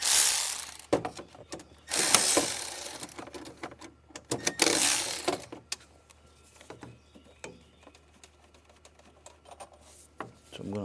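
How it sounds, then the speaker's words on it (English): A ratchet wrench undoes bolts holding a bracket on an RV Sprinter, giving several loud bursts of rapid clicking, close by, separated by quieter pauses with small knocks and handling noises. "So I'm gonna undo this one."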